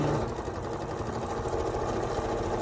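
A sewing machine runs continuously, stitching quilt fabric pieces together with a quarter-inch seam, a close, even, rapid mechanical whir with no pauses.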